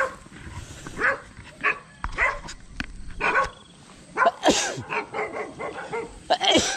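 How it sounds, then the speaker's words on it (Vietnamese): Several dogs bark repeatedly at close range, with loud sharp barks and a few yips coming in irregular bursts over an outdoor background at early morning while frog-fishing. "Mấy con chó này ồn ào quá."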